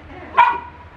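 A dog gives a single sharp bark, close and fairly loud, over a quiet background hum.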